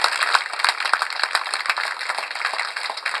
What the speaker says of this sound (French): S'il vous plaît, applaudissez-vous d'abord pour Dr. Féliteur